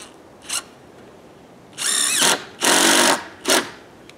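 A power drill drives screws into 2x6 and 2x4 lumber while a pergola is built on a deck outdoors, giving a short blip and then several loud whirring bursts that rise and stop in turn.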